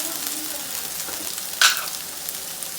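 Potatoes fry on a high flame while being stirred, giving a steady close sizzle with one sharp scrape or clink partway through and no talking.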